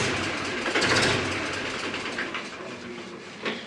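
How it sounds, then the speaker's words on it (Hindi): A Mahindra 265 DI tractor engine runs at idle outdoors, a steady low diesel chug with a brighter mechanical rattle on top, moderately close, swelling briefly and then easing back. "ट्रैक्टर चला, ट्रैक्टर ठीक चल रहा है।"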